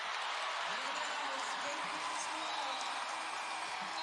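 Crowd applause at an NCAA women's basketball game between South Carolina and Iowa follows a defensive block, a steady wash of clapping and cheering held at moderate level beneath a commentator's voice.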